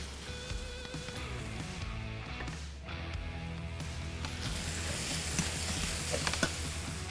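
Braised beef pappardelle sauce with red wine cooking down in a pan, a quiet, even sizzle and bubbling crackle that grows slightly brighter and busier toward the end, with a low steady hum underneath.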